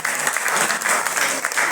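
An audience at a Ramcharitmanas recitation in a Delhi Radha Krishna temple claps together, a brief dense burst of close, steady applause.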